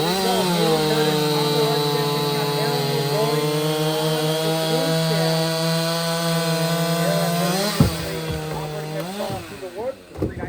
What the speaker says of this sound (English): 391 steel chainsaw